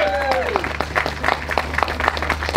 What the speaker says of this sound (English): Big round of applause for Darren Bergwerf